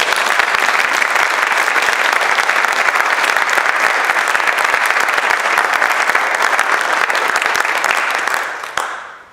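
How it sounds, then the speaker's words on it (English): Sustained audience applause fills an alumni awards ceremony hall, a dense steady roar of many hands clapping for about nine seconds before fading out abruptly at the end. "I think this group deserves one more round of applause."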